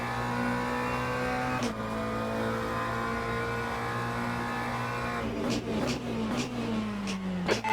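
Race cars in a racing video game, with a McLaren close behind, droning at a steady high engine pitch, then several cars sweep past in quick whooshes as the engine note drops and shifts.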